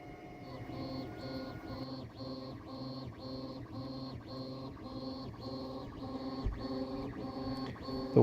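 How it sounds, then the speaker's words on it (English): An ANET A8 3D printer prints a vent connector part for a scroll saw dust collector, its stepper motors whirring in steady, evenly pulsing tones close by, with no voices. "This little ANET A8's been a fantastic little printer here."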